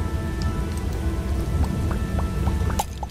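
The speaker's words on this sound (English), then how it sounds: "Oh, and now it's raining." Steady rain falls in the video game Starbound, a dense, even patter of drops that holds at the same level throughout, with a few brighter ticks and splashes near the end and no voices.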